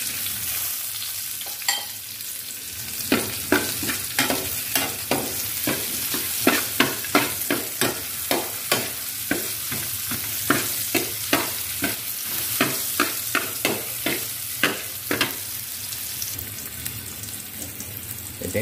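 Garlic and onion sauté for spaghetti sauce, a bright sizzle running under a fast, regular series of scraping strokes as a spoon stirs the pan over and over, fairly close and loud.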